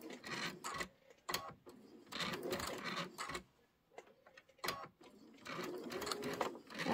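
A sewing machine quilts pinwheel blocks for a candy corn quilt, its needle running in steady fast stitching bursts with short pauses, close and moderately loud.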